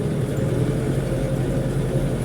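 A farm tractor engine runs steadily in a village setting, a low continuous rumble at moderate loudness with no talk over it.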